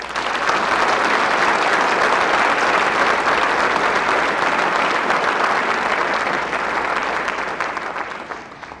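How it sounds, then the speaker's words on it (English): A warm round of applause for military families of Charlie Company at a ceremony, a thick continuous roar of clapping from a large crowd that holds steady and then slowly fades toward the end. "Charlie Company, let's give your families who supported you a warm round of applause."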